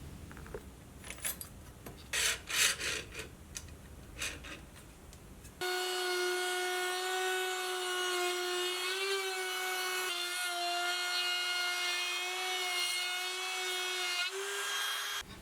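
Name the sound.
battery trim router with flush trim bit cutting hardwood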